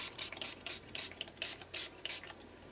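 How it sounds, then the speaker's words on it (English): Spray bottle of water gives a series of quick spritzes onto a mixed media canvas, about five or six short hissing bursts in rapid succession, close and fairly soft with no talking. "And then just quickly give it a big spritz."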